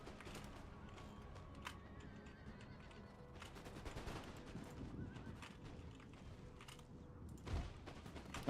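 Horses neighing and whinnying during a battle in the strategy game Empire: Total War, with clip-clopping hooves and scattered musket gunfire in the background, no voices.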